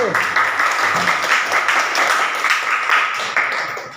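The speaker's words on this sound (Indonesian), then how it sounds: "Berikan aplaus dulu untuk kelompok 1" An audience in a classroom claps for a student group, a dense burst of applause that holds steady for several seconds and then fades slightly.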